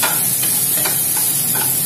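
Coarsely chopped onion frying on high heat in hot oil with ginger and garlic for dry chilli chicken. It hisses and sizzles steadily, with a few soft stirring clicks and no voices.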